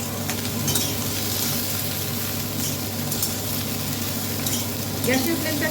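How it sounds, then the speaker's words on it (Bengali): Ridge gourd frying over a high gas flame while being stirred in a pan, a steady close sizzle with occasional scraping stirs and a low hum beneath. "একটুখানি ভাজা ভাজা মতো করে নেব।"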